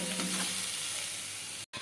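Onion, garlic and black cumin fry as a tempering in a pan, a steady close sizzle with faint stirring early on, cut by a brief silent break near the end.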